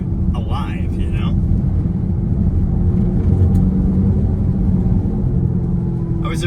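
A 2024 Dodge Charger electric car rated at 450+ HP drives with a steady low synthetic rumble and hum, continuous and fairly loud, with brief higher bursts near the start and end.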